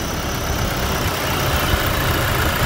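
A 2014 Toyota Hilux pickup engine idles steadily up close, a continuous rumble with a faint squealing belt noise running over it.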